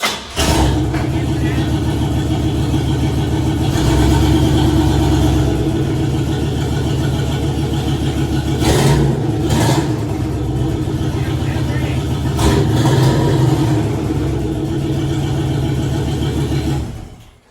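A turbocharged V8 car engine runs steadily, rising in two stretches of revving, with voices speaking intermittently over it.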